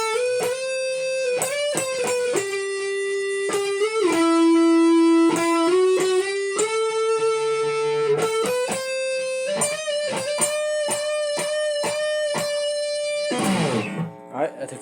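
An interlude solo rings out on an electric guitar through the bridge pickup, sustained melodic notes and bends played close and clear. The phrases flow steadily and close with a brief scratchy flurry.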